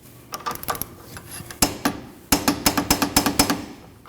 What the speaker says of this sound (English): Then we're going to tighten this long bolt here. And that's 55 foot-pounds.